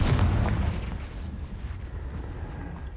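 A Confringo spell explosion in Hogwarts Legacy bursts with a heavy boom at the start, then a rumbling tail that slowly fades with scattered crackles.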